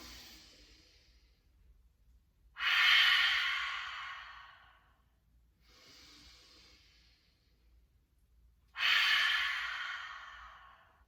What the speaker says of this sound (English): So it's called a ha breath. So just ha out any tension.